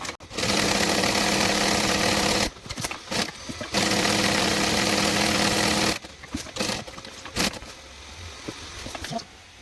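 Sewing machine stitching around a fabric box at a 2.5 stitch length, loud continuous motor runs in two long bursts separated by brief stops and a few clicks.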